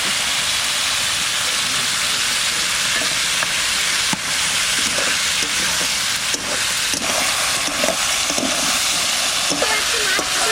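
Continuous loud sizzling of spices (turmeric, salt and chili paste) frying in hot oil, with occasional clinks and scraping of stirring over the steady crackle.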